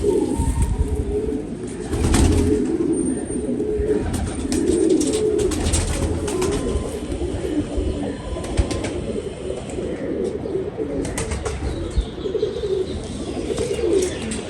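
Pigeons cooing steadily in a loft kept for racing or flying birds, with repeated low coos layered over a constant murmur of the flock and occasional faint chirps.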